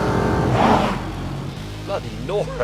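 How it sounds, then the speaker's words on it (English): A car with a W12 600-horsepower engine roars hard under acceleration, loud and close at first, then the engine note fades lower as a man exclaims over it. "So this has an all-new W12 600 horsepower engine"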